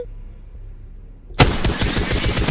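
Rifle gunfire in a video game: after a short quiet lead-in, a loud burst of rapid automatic shots erupts and continues to the end, close and harsh.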